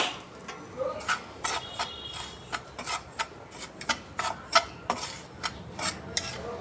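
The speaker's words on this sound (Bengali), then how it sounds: "তো সুজিটা আমি একটু হালকা করে ভেজে নেব।" Semolina lightly roasting in hot ghee in a frying pan, with a run of soft scraping and rubbing strokes of a spoon against the pan, irregular and close, with no talk.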